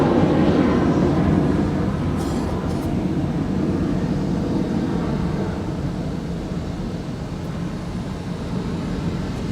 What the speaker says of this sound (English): This is American Flight 1713 off to Orlando, Florida.